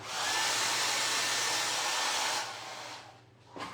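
A hair dryer blows steadily and loudly for about two and a half seconds while clearing the air after spray paint during Dollar Tree candlestick Valentine decor crafting, then cuts off and winds down.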